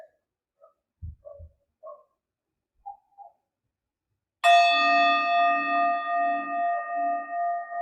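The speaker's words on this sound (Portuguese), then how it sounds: "Deixe que o som do sino seja um sinal para você relaxar." A meditation bell is struck once after a few soft scattered knocks and faint sounds, then rings out loud and clear, its bright tone sustaining and slowly pulsing as it decays.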